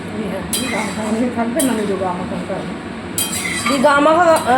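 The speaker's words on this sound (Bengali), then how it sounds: "ভালো করে দিয়ে নাড়াচাড়া করে খানিকক্ষণ ফোটাবো।" Fried puti fish going into curry in a pan, with clinks of a utensil against the pan and stirring, while someone talks over the cooking sounds.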